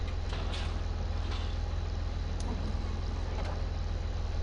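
Tractor pulling a roll-belt round baler in Farming Simulator 17, heard as a steady low engine drone with a rhythmic pulsing rumble and occasional faint clanks, continuous and close with no voices.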